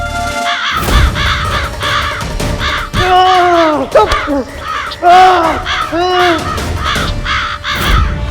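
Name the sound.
crows cawing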